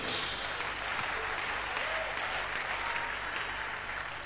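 Steady applause from a large church congregation, sustained and fairly loud throughout with no pauses, filling the room with dense clapping.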